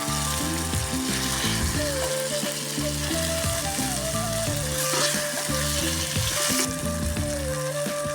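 Raw banana and fish fry (valakai meen varuval) cooks in a pan, giving a continuous sizzle under steady background music.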